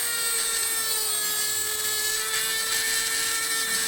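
A grinding disc smooths a flat spot onto a metal bar while building a Matt Chapman Eagle 580, giving a steady high-pitched whine with strong tonal harmonics, close and continuous.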